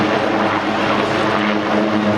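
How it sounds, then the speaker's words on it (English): A Super Puma helicopter flies past at an air display, a loud continuous rotor and engine drone with a steady hum, close and unbroken. "today we just have a very short presentation of the Super Puma display team"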